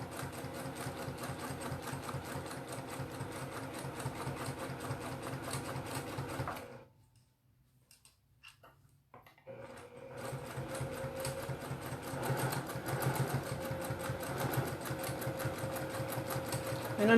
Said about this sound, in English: I'm going to start a couple small stitches